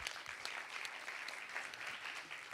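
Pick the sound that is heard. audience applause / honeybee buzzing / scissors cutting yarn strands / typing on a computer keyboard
audience applause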